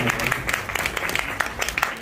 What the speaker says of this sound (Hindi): भरपूर तालियां होनी चाहिए इनके लिए